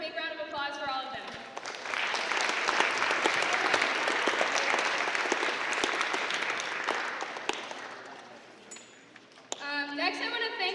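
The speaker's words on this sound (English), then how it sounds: "let's just start with a big round of applause for all of them" A school STEM Night audience at Central High School breaks into loud, sustained applause for the panelists, swelling after a brief spoken lead-in and tapering off after about seven seconds before talking resumes.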